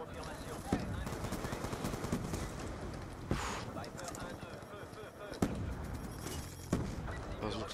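Gunfire from Black Ops 2 crackles almost continuously, with sharper single reports standing out at intervals over a dense, busy game mix with no talk.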